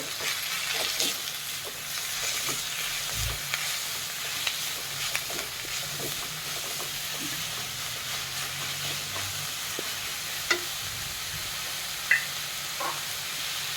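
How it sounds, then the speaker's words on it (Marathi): Chakvat greens fry in a pan with a steady low sizzle and hiss, while occasional spoon scrapes and light taps mark the stirring. It sounds close and moderately loud, and there is no speech. "आता आपण ही भाजी टाकूया भाजी शिजायला अजिबात वेळ नाही लागत पटकन शिजते"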